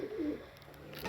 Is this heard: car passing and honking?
no